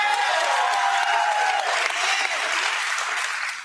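An audience claps steadily in dense, loud applause that tapers slightly toward the end.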